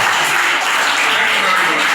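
Steady applause from an audience at a school visit by Oba Hills National Park conservators, a dense, even wash of clapping that continues throughout.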